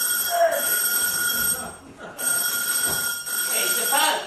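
An old-style telephone bell rings in repeated bursts across the stretch, steady and fairly close, with a brief gap in the middle, over a stage-play setting with faint room noise and some vocal sound.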